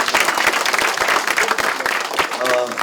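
A hall full of newly elected Korean National Assembly members claps in a dense, energetic burst at their ceremony, with a crowd murmur and some voices mixed into the applause.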